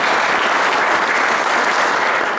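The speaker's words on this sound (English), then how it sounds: "would you please stand up and give a round of applause for her?" Steady, dense applause from an audience at a speech contest and auction, with the room clapping for a judge the whole way through and no voices over it.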